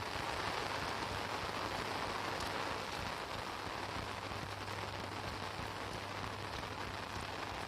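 Heavy rain pours steadily and loudly, a dense continuous roar of drops on surfaces with no voices throughout.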